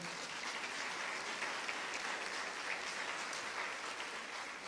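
Audience applause after a conference lecture, a steady, even wash of many hands clapping throughout, moderately distant and without talk.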